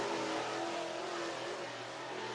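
A race car accelerates hard off turn four at Southern Raceway in Milton, Florida, its engine roaring loud and steady at a distance throughout, with no talking.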